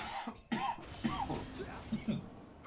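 A man coughs a few times into a live microphone during a game broadcast, sharp close bursts with a little speech-like sound between them.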